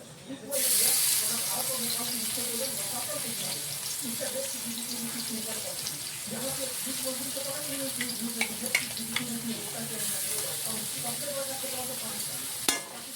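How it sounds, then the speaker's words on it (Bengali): Grated onion dropped into hot oil in a pan for a crab curry, giving a loud, continuous sizzle with scattered crackles and stirring, while a voice talks over it. "এখানে আমরা গ্রেট করা পেঁয়াজ কেটে নিয়েছি, সেটা আমরা এই তেলের মধ্যে দিই।"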